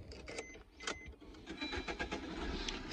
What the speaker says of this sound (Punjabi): ਸਟਾਰਟਿੰਗ ਵਗੈਰਾ ਜਿਹੜੀ ਕਾਰ ਦੀ ਬਿਲਕੁਲ ਨੋਰਮਲੀ ਆ